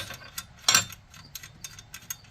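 A hand wrench working loose a bolt gives a short, close burst of metallic ratcheting clicks, followed by a few fainter scattered ticks against quiet background.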